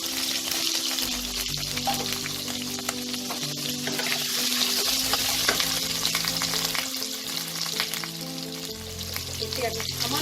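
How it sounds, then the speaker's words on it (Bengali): Diced potatoes fry in hot oil with a steady, dense sizzle that crackles continuously throughout, close and fairly loud with no talking. "এবার এই তেলে আমি ডুমো ডুমো করে দুটো আলু কেটে রেখেছি, এই আলুগুলোকে লাল করে ভেজে নেব।"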